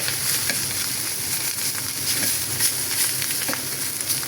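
Ustaa, a bitter gourd, sizzles and crackles in a pan while being stirred, with a continuous close frying hiss and occasional soft scrapes and taps of the spatula, no voices.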